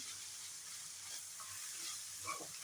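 Carrots and peanuts frying in a pan as ginger garlic paste is stirred in make a soft, quiet sizzle with faint scraping of the spoon now and then; nobody speaks.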